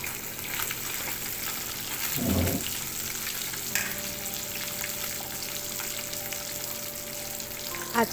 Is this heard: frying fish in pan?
yes